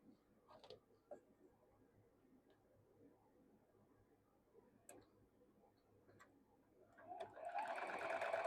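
A sewing machine stitches a modern quilt block after a long, nearly quiet stretch of faint ticks and handling noises, whirring up loud and steady in the final second or so.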